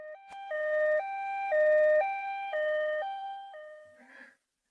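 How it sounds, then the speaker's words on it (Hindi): An ambulance siren sounds in clear alternating two-tone steps, loud and close, then cuts off abruptly near the end. "एम्बुलेंस पहले ही रास्ते पर है, जल्दी ही आ जाएगी"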